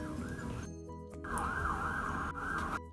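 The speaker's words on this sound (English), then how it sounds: "that siren's been going for so long." A siren wails faintly in the distance outdoors, sweeping up and down in steady cycles with short dropouts, heard alone without talking.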